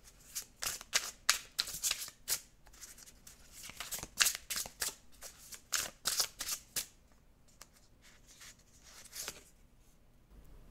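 Oracle cards are shuffled close up in quick bursts of crisp riffling and flicking, several rapid runs with short pauses between them, quiet overall and with no talk.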